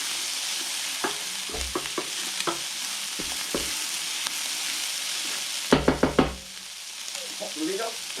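Chicken, steak and a lamb cutlet warm in a sizzling pan, steady frying hiss with repeated knocks and scrapes, then a cluster of clatters as the sizzle quiets briefly.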